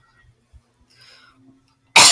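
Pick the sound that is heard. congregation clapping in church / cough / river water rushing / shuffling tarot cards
cough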